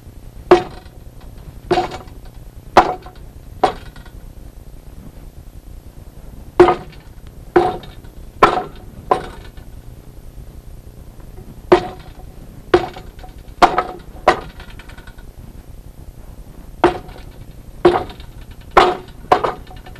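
Sharp wooden knocks from strikes and kicks on a Wing Chun wooden dummy arrive in quick clusters of three to five hits, separated by short pauses, loud and close with no talking.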